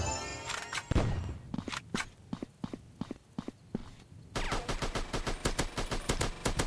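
Gunfire in an action gun-fight video game: a heavy opening blast, then a string of evenly spaced single shots, followed by a rapid, denser burst of automatic fire, close and punchy with no talking.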